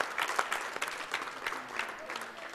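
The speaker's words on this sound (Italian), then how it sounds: "Applauso anche all'Ornavasso" Audience applause after a placing is announced at an Italian football awards show, a steady patter of clapping from a crowd lasting a few seconds without talk over it.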